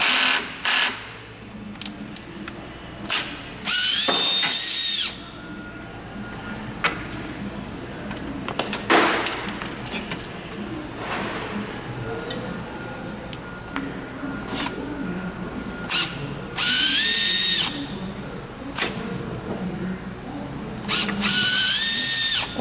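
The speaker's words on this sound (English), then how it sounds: "we're going to use the Phillips head screwdriver to remove the 4 screws that secure the frame cross member" Power tool whirring in repeated short bursts, likely a powered Phillips driver backing screws out of a massage chair frame cross member, with quieter clicks and handling noise between the runs.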